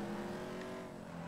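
Four-cylinder car engine in the video game GTA 5, a steady faint hum of a running motor with a slight drop in level partway through.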